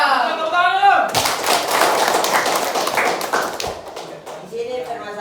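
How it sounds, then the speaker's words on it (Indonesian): A classroom group claps hands together in a burst of quick, loud, uneven claps lasting a few seconds, with voices talking just before and as it fades. "Tepuk tangan dulu."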